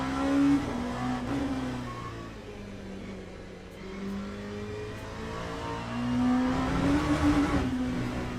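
LMP3 race car engine in Le Mans Ultimate at Barcelona, a mid-pitched motor revving up and down through gear changes, steady and moderately loud, surging again toward the end.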